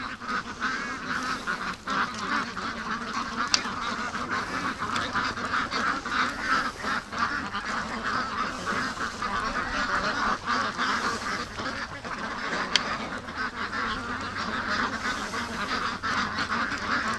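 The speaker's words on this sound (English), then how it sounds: "Come on, little Muscovies. Come on, duck, let's go." A flock of free-range ducks, Muscovies among them, at a lake, giving a dense, continuous chorus of quacks and honking calls, loud and close throughout.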